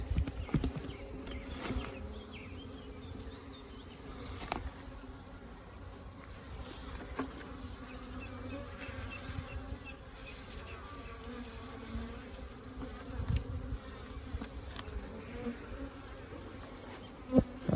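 Honeybees buzz around an open hive as a colony is inspected and a caged queen is checked, giving a steady close drone with occasional louder passes of individual bees near the ear.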